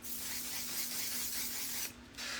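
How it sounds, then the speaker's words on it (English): Setting spray misted onto a face, a steady soft hiss running continuously for about two seconds, a brief pause, then resuming close to the microphone. "So I'm going to spray my face with this."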